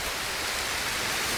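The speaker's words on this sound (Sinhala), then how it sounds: "ටිකක් හයියෙන් වහිනවා තෙමෙන්න තරම්." Rain falls fairly heavily in the Badagamuwa forest, a dense, even hiss of drops on leaves and ground that stays steady throughout, with no voices.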